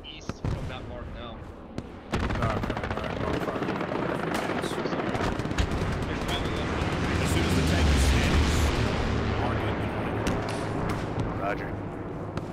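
Artillery barrages in the World War II shooter Hell Let Loose, a sudden onset of sustained deep rumbling booms and blasts that rolls on loudly for several seconds, with voice chat talking over it.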